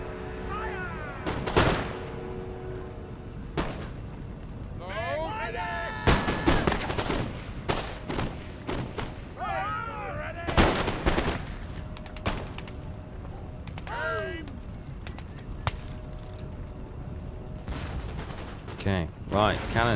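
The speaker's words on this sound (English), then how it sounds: "Cannon's giving them a good flanking fire." Cannon and musket fire in the Empire Total War video game, a British campaign battle, with repeated sharp booms and crackling volleys at varying distances, plus whistling projectiles and shouting soldiers between blasts.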